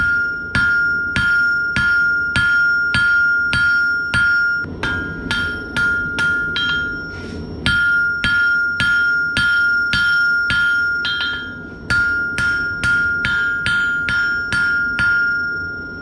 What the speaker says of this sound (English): I'm going to start making the striker by flattening 3 inches at the end of the 9-inch piece